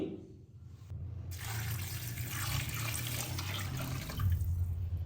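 About 1.5 litres of water pour steadily into a pot of 1 kg super basmati rice for chicken pulao, a loud continuous splashing rush lasting several seconds with no talking.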